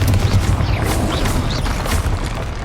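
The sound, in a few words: Bombarda and Confringo spell blasts in Hogwarts Legacy video game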